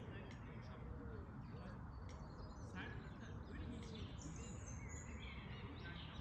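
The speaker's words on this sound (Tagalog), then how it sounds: "Huni lang ng mga ibon yung maririnig mo." Birds chirp and call faintly in the distance at a quiet outdoor picnic spot, scattered tweets over a steady low rumble of ambient background noise.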